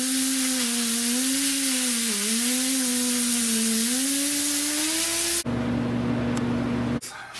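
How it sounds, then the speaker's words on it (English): A steady, loud hiss of metal prep being sprayed onto a black deck panel runs under a droning hum, then stops abruptly and leaves a quieter hum with brief bursts of noise. "But I spray that metal prep on there."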